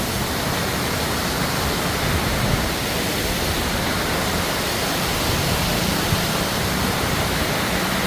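Artificial waterfall at Ain el Samak, Lebanon, fed by motor-pumped water, roars as a steady, dense broadband rush, loud and unbroken throughout with no voices.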